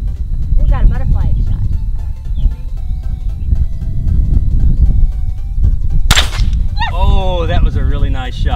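A .22 rifle shot at a playing card target during trick shooting, a sharp crack near the middle followed by people talking and exclaiming.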